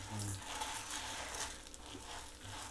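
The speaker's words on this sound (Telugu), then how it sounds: "ఇది మనము బాగా గోల్డెన్ కలర్ వచ్చేదాకా వేయించుకోవాలండి" Urad dal and chana dal dry roasting in a pan give a soft, continuous rustling sizzle with faint scraping stir sounds and low clinks, close and moderately quiet, with no voices.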